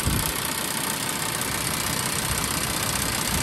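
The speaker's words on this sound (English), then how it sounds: "There we have a TD5 110 engine" A steady, rumbling Land Rover Defender 110 TD5 diesel engine idles continuously with a dense, knocking mechanical texture, close by and unchanging throughout; its turbo shield, missing a bolt, rattles slightly.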